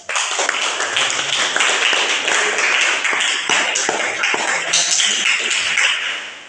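A classroom of students clapping together in a dense, steady burst of applause that fills the whole stretch and tapers off at the end, with no talking over it.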